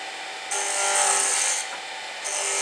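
A gouge cutting spinning wood on a woodturning lathe, producing two bursts of bright, hissing shaving noise over the steady hum of the machine, close and fairly loud.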